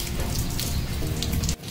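Steady rain pours in a village at around six in the evening, a dense, continuous hiss and patter close by, with no voices.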